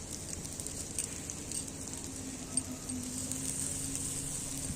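Soybean tikkis fry on an oiled tawa with a steady, soft sizzle and faint crackle that holds evenly throughout, with no voices.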